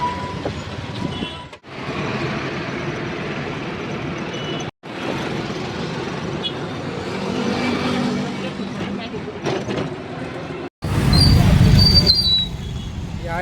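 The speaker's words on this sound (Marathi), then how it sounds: "तर आता बसलो आम्ही रिक्षामध्ये" Ride inside an auto rickshaw near a bus stand in Sambhajinagar: a steady engine drone and road rumble run under people talking, broken by a couple of brief cutouts, with a louder rough burst near the end.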